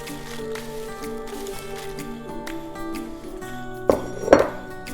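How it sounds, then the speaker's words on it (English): Popcorn tipped into a bowl for Christmas party popcorn, a couple of quick light clinks and rustles near the end over a steady background hum. "I'm going to put some of my popcorn in here just so that I have enough room to mix things around"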